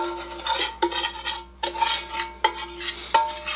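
Spoon scraping a brown sugar and brown butter mixture out of a bowl, a series of short close scrapes and taps against the bowl with pauses between strokes and no voices.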